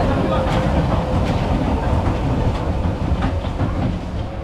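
The Choo Choo train ride at Alton Towers rolls along steadily, with a continuous rumble and regular clickety-clack wheel beats heard from on board.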